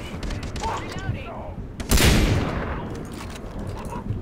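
Gunfire in the video game Far Cry 3 fires during a co-op session: a loud, sharp burst stands out midway over a steady bed of game ambience, with softer shots and noise around it.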